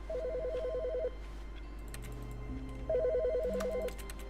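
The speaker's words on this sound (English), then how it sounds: "Hey, there's a phone call." A telephone rings in The Stanley Parable with two bursts of rapid electronic trilling separated by a pause, over a low steady hum and faint clicks.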